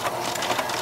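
A sewing machine runs a quarter-inch seam on a small purse pocket with a quarter-inch foot, a brief, steady whirring burst of stitching heard up close.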